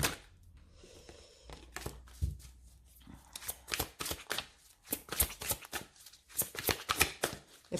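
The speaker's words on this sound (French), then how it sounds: "Une coupe pour votre mois de mai." Tarot cards being cut and shuffled by hand, a quick series of crisp riffling slaps and flicks that grow denser and louder toward the end, close and alone with no talk.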